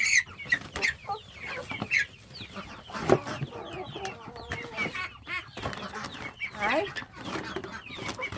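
Chickens being fed cluck busily up close in overlapping bursts, with scattered higher squawks, while a person talks intermittently among them.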